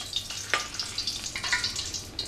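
Hot frying oil, taken from the pan used to fry liver, is poured over two spoonfuls of ground red pepper. It sizzles and crackles steadily, with fine popping bursts, fairly quiet and close, with no talk.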